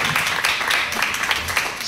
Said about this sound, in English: Let's give Stuart a big round of applause